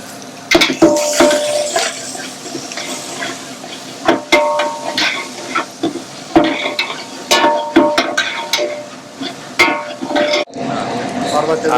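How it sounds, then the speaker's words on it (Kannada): About half a kilo of onions frying in a pan with green chillies and curry leaves, stirred with repeated sharp clinks and scrapes of a utensil against the metal, close and loud, while a person talks throughout. "ನೋಡಿ ಈಗ ಈರುಳ್ಳಿ ಎಲ್ಲ ಲೈಟ್ ಆಗಿ ಫ್ರೈ ಮಾಡ್ಕೊಂಡಿದ್ದಾರೆ"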